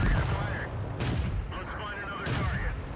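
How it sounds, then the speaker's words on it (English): A tank's main gun firing in World of Tanks, with two heavy booming shots over a constant rumbling engine-and-battle din, loud and close. "I just charge him while constantly firing to maybe try to keep him pinned"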